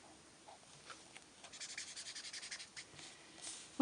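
Quiet, quick rubbing of a pen tip across paper, a steady run of small scratchy strokes close to the mic with no talking.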